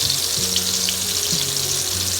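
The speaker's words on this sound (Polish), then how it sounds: "Mocno smaży, to będzie mocno." Breaded fillets frying hard in hot oil, with zucchini and mushrooms also cooking, give a steady close sizzle and hiss that continues alone with no speech.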